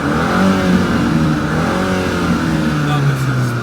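BMW 430i xDrive Gran Coupe M Sport with a turbocharged engine, set to sport mode, revving steadily and loud close by, its engine tone rising and falling under ongoing talk.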